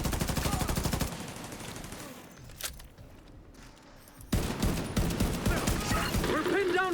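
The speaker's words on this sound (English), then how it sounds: "We're pinned down by turrets at the main gate." Automatic turrets at a main gate fire sustained bursts of rapid gunfire in a shooter video game, with loud fusillades, a brief lull of scattered shots, then another heavy burst, close and dominant.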